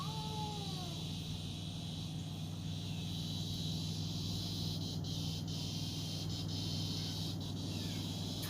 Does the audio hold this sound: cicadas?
yes